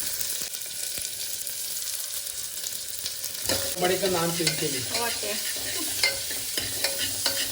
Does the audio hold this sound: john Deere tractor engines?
no